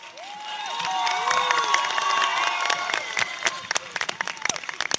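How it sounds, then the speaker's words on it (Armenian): A crowd applauds and cheers loudly and steadily, with scattered sharp claps and whistles standing out toward the end. "դա կարող ենք մեր ծափերով մենք ապացուցել, որ Մասիսը նոր շունչ է առել"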